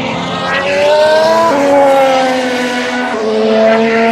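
Formula 1 cars at 2019 pre-season testing roar past on the circuit, loud high-revving engines with sharp gear changes and pitch drops as each car sweeps by close.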